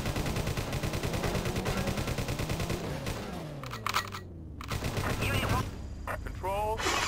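Rapid bursts of game gunfire from the PS1 police-chase game World's Scariest Police Chases, loud and steady throughout, mixed with engine drone, a falling siren-like sweep and other game effects.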